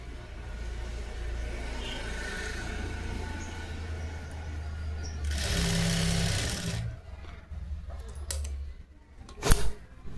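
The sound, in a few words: sewing machine stitching a blouse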